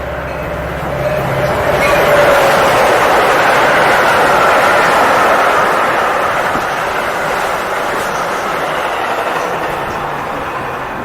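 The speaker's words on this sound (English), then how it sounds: "my own videos of an F40PHM-2 leading a westbound express train in the early afternoon at Riverside" A Metra F40PHM-2 diesel locomotive leads a westbound express train through Riverside in early afternoon, its broad rumble and wheel roar swelling as it passes close, then easing away without fading out.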